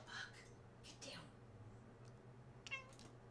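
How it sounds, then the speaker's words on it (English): A house cat gives a couple of short meows, fairly faint and close, separated by quiet pauses in an indoor room with a low steady hum. "Oh, this cat."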